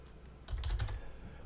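Brief burst of typing on a computer keyboard, a quick cluster of soft close key taps after a moment of quiet room tone, no voices.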